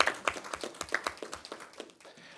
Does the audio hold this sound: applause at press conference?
yes